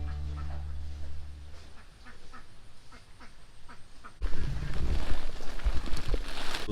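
Ducks at a duck farm during morning egg collection make a run of quick, rough quacks over steady noise, followed by a louder, denser stretch of close, overlapping clamor.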